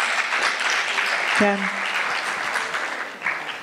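Audience applause at a playback theatre performance, steady clapping from a small crowd throughout, with one brief spoken word near the middle.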